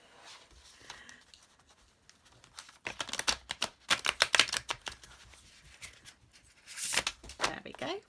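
Tarot cards being shuffled by hand, bursts of crisp riffling and flicking in several rapid runs, close and fairly loud, separated by quieter pauses.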